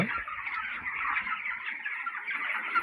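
A dense, continuous chorus of peeping young chicks fills a chicken farm shed fitted with feeders and drinkers, steady and moderately loud with no voices.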